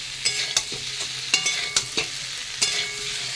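Spice paste of cumin, chilli and ginger being sautéed with potato and cauliflower in a pan for a fish curry, with steady sizzling and repeated scraping stirs that clack sharply at an uneven rhythm, close and clear.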